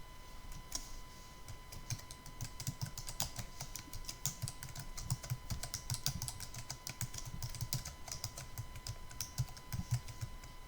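Quiet, rapid keystrokes patter continuously on a computer keyboard while text is typed into a Microsoft Word document, with no talking.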